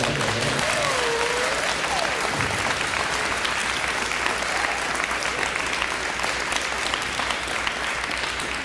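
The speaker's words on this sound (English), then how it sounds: "So give yourselves a round of applause." Schoolchildren and audience at a charter school ceremony break into sustained applause, a steady wash of many hands clapping at moderate distance, with a brief voice early on.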